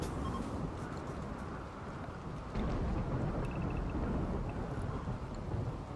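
Rumbling rain and wind from a thunderstorm in the colony video game RimWorld, a low, steady noisy roar that swells slightly midway, with no voices.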